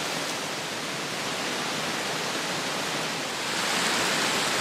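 A creek flows through a forest with a continuous, dense rushing wash of water, steady and fairly close, swelling slightly toward the end with no voices over it.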